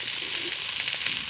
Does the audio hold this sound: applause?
no